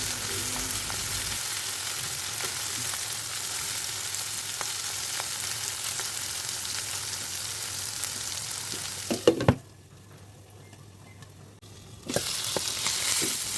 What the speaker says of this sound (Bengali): মাছের ডিমগুলো ভালোভাবে নেড়ে চেড়ে অল্প আছে কিছুক্ষণ ঢাকনা দিয়ে সিদ্ধ করে নিলাম।